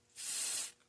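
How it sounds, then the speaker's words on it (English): A short burst of aerosol spray hisses into a car's plug on a cold day, a single close, soft hiss lasting about half a second. "mainly just for the plug, I'm just going to spray"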